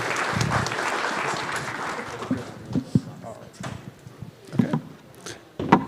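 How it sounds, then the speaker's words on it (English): Audience applause at a tech conference stage, a crowd clapping that starts full and thins out into scattered claps over several seconds, with voices audible underneath. "Big round of applause, guys."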